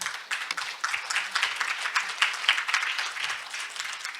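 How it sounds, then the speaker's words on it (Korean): Applause from a conference audience follows a special lecture, many hands clapping steadily and fairly close for several seconds. "이광미 대표님께 다시 한번 큰 박수 부탁드리겠습니다"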